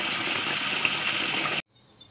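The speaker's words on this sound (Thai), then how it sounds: "เอามาล้างน้ำด้วยค่ะสองน้ำได้ทั้งนั้น" Steady gush of running water while bamboo shoots are rinsed, loud and continuous, then cutting off abruptly to near silence.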